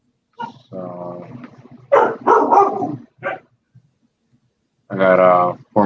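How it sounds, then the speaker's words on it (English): A four-month-old puppy barks in a few bursts, loud and close, with short yips spread across the moment and brief quiet gaps between them. "There goes my dog again."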